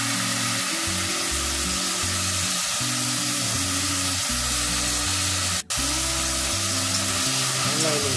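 Grasshoppers fry in hot oil in a pan for a simple rustic dish, giving a steady, close sizzling hiss that runs without a break for the whole stretch, over a low, even background tone.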